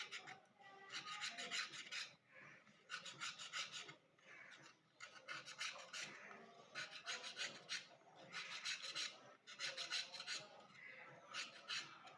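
Pointed gourds (potol) are scraped lightly in a kitchen, making repeated rhythmic rasping strokes in short bursts with brief pauses between, close and fairly quiet.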